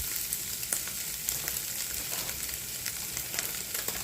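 Frozen mixed vegetables go into a pan of beef mince curry and sizzle steadily, a dense close frying hiss scattered with small pops and crackles.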